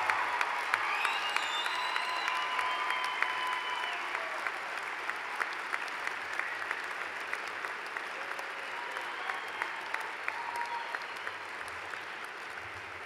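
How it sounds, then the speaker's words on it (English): Steady, moderately loud applause from graduates at a university commencement ceremony, sustained throughout with a dense, even texture. "acknowledge your families and friends who are here with you with a round of applause for them"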